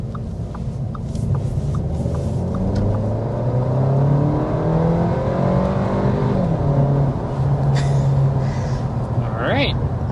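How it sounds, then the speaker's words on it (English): A 2025 Audi A3 accelerates hard up to about 60 mph, its engine note rising and shifting through gears as a steady rumble of road and wind noise builds from inside the cabin. "But first, we want to go ahead and start with a hard acceleration."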